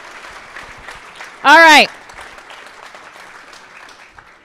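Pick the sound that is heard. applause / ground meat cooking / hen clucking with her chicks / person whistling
applause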